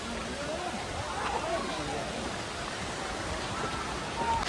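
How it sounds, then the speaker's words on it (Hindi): Neer Garh waterfall in Rishikesh gives off a steady broadband rush of falling water, constant and fairly close throughout, with no spoken voices on top. "देखो किस प्रकार से यहाँ पर झरना बह रहा है।"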